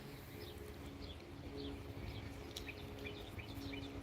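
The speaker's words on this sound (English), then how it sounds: "Y'all hear the birds singing?" Birds chirp faintly in short, scattered calls against a steady low background hum.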